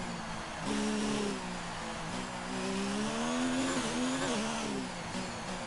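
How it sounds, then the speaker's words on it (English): A Ferrari Formula 1 car engine in a racing video game, whining loudly and continuously as the revs climb and dip through gear changes, with a steady high-pitched drone throughout. "The little Ferrari engine that could"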